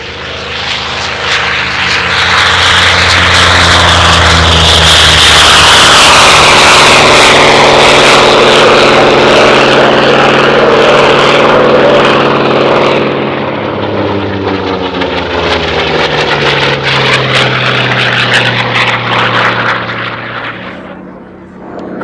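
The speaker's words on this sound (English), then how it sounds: "the Sea Fury is one of the fastest piston engine fighters ever built" A Hawker Sea Fury T20 piston-engined fighter roars past at an airshow, very loud and sustained, its engine tone rising and then falling in pitch as it sweeps by.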